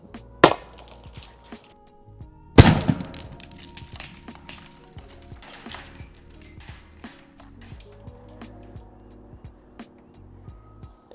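A Stingray airsoft claymore mine fires with a sharp pop, then a second, louder burst follows a couple of seconds later, with quieter rattles and handling noises after it.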